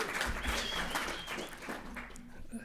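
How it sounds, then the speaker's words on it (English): Brief scattered audience applause at a talk on ending homelessness, moderate and close, fading out over a couple of seconds with some murmuring underneath. "No round of applause for that?"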